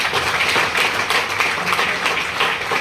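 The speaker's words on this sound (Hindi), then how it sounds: "जोरदार ताली" Loud, dense audience applause at a business income plan seminar, a close burst of many hands clapping throughout.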